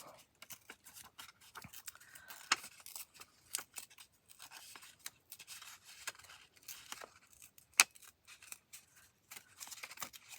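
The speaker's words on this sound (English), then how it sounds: "I want to tear around the sketch as well." Paper torn by hand around a sketch in a craft session, a quiet run of short rips and crinkles that recur irregularly throughout, with one sharper tear standing out near the end.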